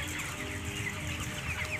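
Broiler chickens in a poultry house over-ventilated by high wind speed, giving soft scattered clucks under a steady broadband roar of fans and airflow, with no talking.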